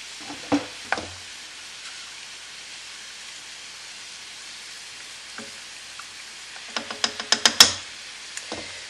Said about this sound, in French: Voilà, je vais mettre les pâtes.